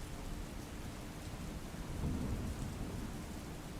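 Steady rain shower falling in an Ahmedabad neighbourhood, a continuous dense hiss with a low rumbling swell near the middle, no voices.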